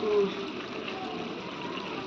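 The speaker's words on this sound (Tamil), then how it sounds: "குக்கரில் தண்ணி ஊற்றி" Water pours into a pressure cooker in a home kitchen while a biryani is being cooked, giving a continuous, fairly quiet rushing splash that sits close to the listener.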